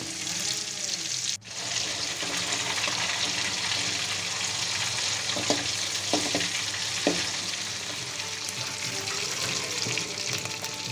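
Collar fish frying in a pan over a slow flame, giving a dense, continuous sizzle that holds steady throughout, with a couple of faint clicks from the pan.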